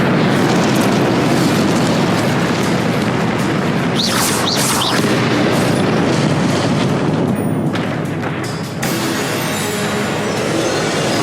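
Spell explosions from Confringo and Incendio in the Hogwarts Legacy video game, a dense, continuous booming rumble with sharp bursts layered over a loud, steady barrage throughout.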